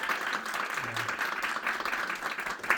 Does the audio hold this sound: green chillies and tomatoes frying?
no